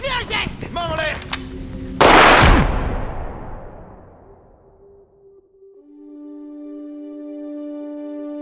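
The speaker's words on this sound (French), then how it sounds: "C'était une balle en caoutchouc." A rubber bullet gunshot in a VR Batman video game bursts out loud and sharp, trailing off in a long decaying rumble before steady electronic tones take over; talk precedes the shot.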